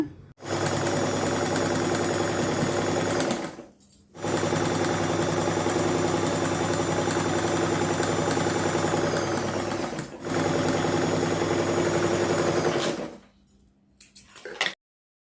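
A sewing machine stitches a blouse in three long, steady bursts of close, loud mechanical whirring, separated by brief pauses, with no talking.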